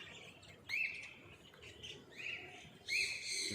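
Nanday conures call from a walk-in aviary, with several sharp, rising squawks spaced a second or two apart over a soft bed of other chirping birds.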